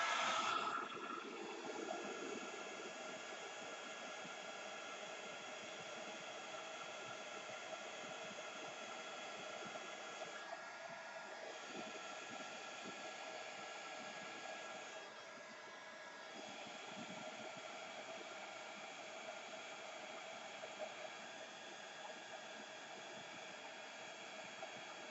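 Heat tool drying embossing powder on vellum, a steady, faint whirring hiss of the blower running continuously and alone, with a brief louder start.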